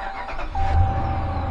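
A 2014 Ram truck with a misfire fault cranks and catches, its engine rising into a rough low idle up close, with no voices.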